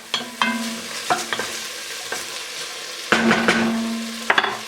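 Garlic and ginger fry in a pot over medium heat for pumpkin soup, a spoon scraping and stirring in sharp intermittent strokes over a steady close sizzle.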